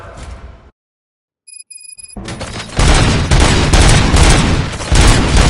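Gunfire in the video game Robocop Rogue City: a short burst of shots, a brief silence broken by electronic beeps, then a loud sustained fusillade of rapid automatic fire and booms.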